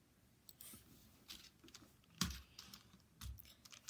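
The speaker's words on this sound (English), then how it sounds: "Sorry, that was the keyboard moving" Faint clicks and taps from a computer keyboard being moved and pressed, a scattered series of small knocks with one sharper clack partway through, quiet and without talk.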